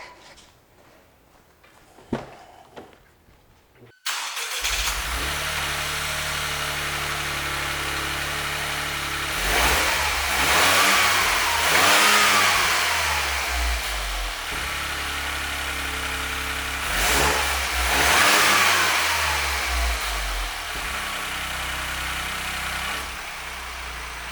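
After a few faint clicks, a Toyota GR Corolla engine fitted with a GFB blow-off valve and K&N intake filter cranks and catches, then idles with a steady rumble broken by two strong revs that rise and fall.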